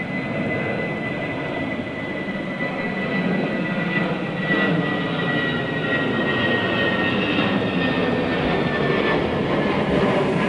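Airliner at London Heathrow Airport, a sustained jet engine roar with a whining tone that holds loud and steady throughout, unaccompanied by speech.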